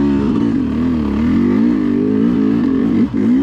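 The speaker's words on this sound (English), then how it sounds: "I am loving the grunt of this Sherco 300" A Sherco 300 enduro motorcycle chugs up a hill at low revs, its engine a steady, close, rumbling drone that wavers slightly in pitch throughout.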